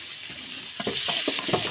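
Chopped onions with bay leaves sizzle in a pan of oil just used for frying tangra fish, with a steady hiss and a run of scraping stirs in the second half.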